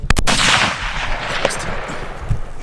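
A single loud rifle shot from a .300 PRC cracks out at close range while deer hunting in Australia, followed by a rolling echo that fades across open ground.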